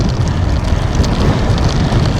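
Strong wind roars across the microphone of a cyclist touring from Fort Davis to Marathon in Big Bend, a loud, continuous low rumble with gusty buffeting throughout.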